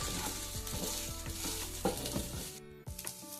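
Onions frying in a pan for green masala chicken chops, a steady close sizzle with repeated scraping strokes of a spoon stirring through them, alone without voices.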